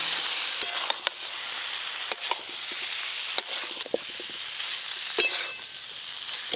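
Fried potato and jackfruit sautéed with spices in a pan, a steady close sizzle broken by irregular sharp scrapes and knocks of stirring, with no voices.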